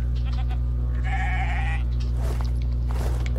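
One sheep bleats once in the video game Divinity Original Sin 2, a short wavering cry over a loud constant hum with faint background noise.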